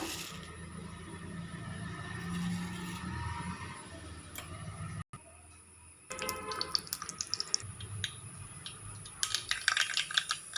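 A teaspoon of mustard seeds hits hot coconut oil, giving a soft hiss that drops out briefly, then turns into scattered, sharp crackles and pops growing busier toward the end.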